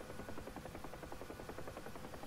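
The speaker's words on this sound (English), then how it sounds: "It just feels nice flying a helicopter around." A Huey helicopter in the flight simulator DCS gives off a steady, loud rotor thump, rhythmic blade chop over a constant engine drone, with no voices.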